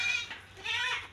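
A goat bleats twice on a goat farm, a close, quavering cry followed after a short pause by a second longer call, with no talking.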